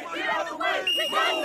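An angry crowd of protesters shouts at police in a continuous, loud roar of many overlapping voices, with rising surges of yelling close by.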